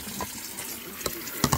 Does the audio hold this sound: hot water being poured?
yes